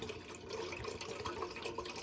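Water pours steadily into a teapot, a continuous splashing trickle, close and fairly quiet.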